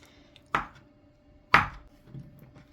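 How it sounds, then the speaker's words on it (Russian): Two sharp knife chops land on a cutting board about a second apart, cutting mozzarella into small cubes, followed by softer tapping and handling sounds. "Моцареллу нарезаем небольшими кубиками."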